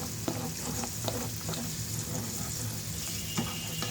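Haleem fries in a pan just after its spice mix goes in, giving a continuous close sizzle broken by repeated scraping stir strokes, with no one speaking.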